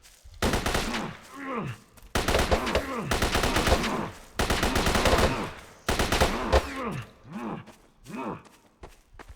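Rapid assault rifle bursts crack in the zombie-shooter video game sZone Online, arriving in several dense, loud volleys separated by short pauses, with groaning, voice-like cries mixed through the gunfire.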